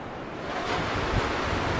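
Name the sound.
strong mountain wind, 90 to 100 km/h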